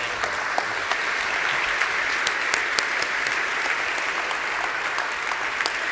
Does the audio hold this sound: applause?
yes